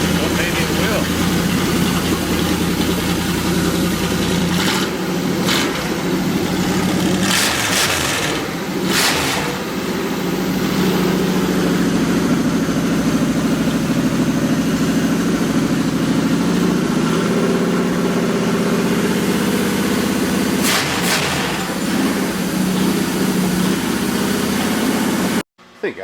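A Chevy 350 V8 in a 1966 C-10 truck runs loud and close at a steady, rumbling idle, with a few mechanical knocks and clatters over the drone before it cuts out abruptly at the very end.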